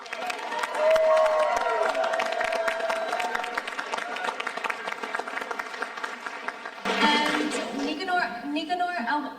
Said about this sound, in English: everybody give a round of applause for